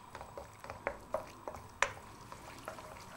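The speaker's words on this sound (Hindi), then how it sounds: "यहाँ पे तेल गरम हो चुका है, यहाँ पे हम इसमें शामिल करेंगे 2 अदद प्याज और इसको आपने अच्छी तरह लाइटली सा फ्राई करना है" Two onions frying lightly in hot oil in a home kitchen pan, with soft scattered sizzles and small pops, occasional sharper crackles, fairly quiet and close, no talking.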